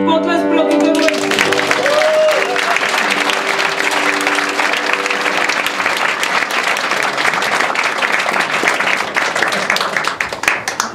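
A studio audience at a Czech television game show breaks into loud, sustained applause for a pair of contestants. The applause fills the whole stretch after a brief spoken line at the start.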